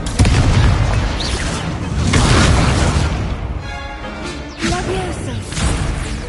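A fire spell cast in the Hogwarts Legacy video game, heard as loud booming bursts and whooshes amid dense, continuous combat noise with repeated impacts.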